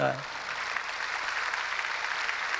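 Worshippers clap at a summer Holy Spirit revival meeting, a pastor among them, a steady blur of many hands clapping, with a brief voice at the very start.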